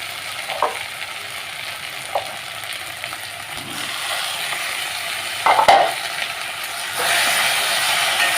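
Onion paste frying in oil with ginger and garlic, a steady close sizzle broken by a few sharp clicks and scrapes of stirring.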